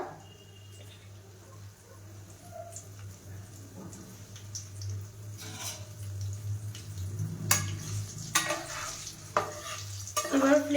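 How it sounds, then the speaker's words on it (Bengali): Garlic mushrooms drop into hot oil for deep frying, giving a steady sizzle with scattered pops and clatters of a utensil against the pan, close and fairly loud, with no talking. "এর মধ্যে আমি গরম তেলের মধ্যে এবার দিয়ে দেবো।"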